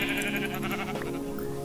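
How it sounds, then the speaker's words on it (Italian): Sheep in the video game Minecraft bleat over a dense, loud, steady wash of game music and ambience that fills the whole stretch without a break. "E ecco pecore, pecore che mi servono."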